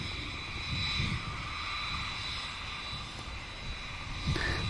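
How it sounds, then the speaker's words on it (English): A Boeing Dreamliner jet climbing after takeoff from Manchester Airport, a fairly faint, distant engine roar with high whining tones, steady with gentle swells and no speech. "Slight crab on the initial climb as well from the Dreamliner."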